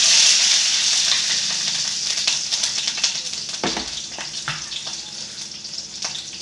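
Green chillies dropped into a hot pan for Maggi noodles set off a loud, bright sizzle that gradually settles into uneven crackling and spitting, with occasional stirring clicks close by.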